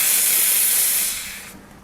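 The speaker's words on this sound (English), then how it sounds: "So we get plenty of steam." A loud, steady steam hiss blasts close up from a La Pavoni Europiccola espresso machine's steam wand, then tapers off and fades near the end.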